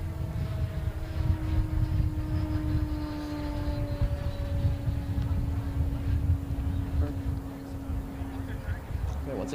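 Competition model aircraft in flight overhead at an AIAA Design/Build/Fly contest, carrying cargo, a steady propeller whine drifting slowly downward in pitch over a broad outdoor rumble, with a voice talking over it.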